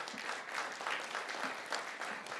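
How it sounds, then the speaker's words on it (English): Crowd at a press announcement in Birmingham applauds Coach Sam Shade, a fairly soft, steady patter of many hands with a few louder claps scattered through it. "Again, please give Coach Sam Shade a round of applause."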